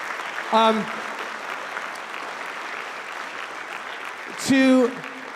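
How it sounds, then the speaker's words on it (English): Steady applause from the audience at a high school spring band concert fills the hall at moderate loudness, with two short vocal whoops or calls rising above the clapping near the start and end. "Can you give the two of them a round of applause?"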